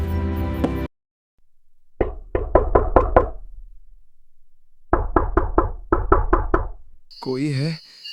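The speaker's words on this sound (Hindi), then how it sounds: "राघव दरवाजा खटखटाता है।" Knocking on the old wooden door of a small hut, two bursts of about six rapid, loud raps each separated by a pause, dry and close with a short reverberant tail.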